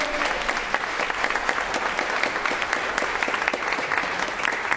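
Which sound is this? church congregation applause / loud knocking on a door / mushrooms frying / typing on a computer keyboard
church congregation applause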